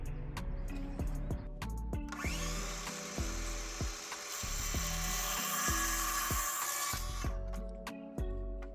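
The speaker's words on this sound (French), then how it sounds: "2x4 va être vissé avec des vis auto-perçantes directement dans la structure" Power driver sinking self-drilling screws through a 2x4 into the metal frame of a carport being turned into a vegetable greenhouse, with a long steady whirring run and repeated shorter bursts and clicks, loud and close.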